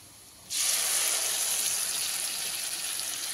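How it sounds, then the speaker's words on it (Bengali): Tomato paste dropped into a hot pan of paneer masala gives a sudden loud sizzle that starts after a brief quiet moment and then holds as a steady, close hiss, fading only slightly. "দিয়ে দিতে হবে টমেটোর পেস্ট।"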